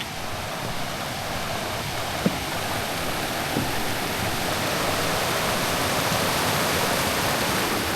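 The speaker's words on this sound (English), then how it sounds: "I think we're going to be crossing the creek." Paintbrush Creek in Grand Teton rushing steadily nearby, a dense, continuous broadband roar of flowing water filling the whole scene without pause.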